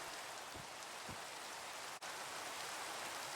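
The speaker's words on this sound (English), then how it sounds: "As the rain goes away" Steady rain from the video game Minecraft, a continuous broadband hiss of falling drops that fills the whole stretch, briefly cutting out for an instant before resuming at the same even level.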